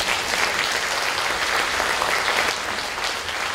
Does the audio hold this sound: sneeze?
no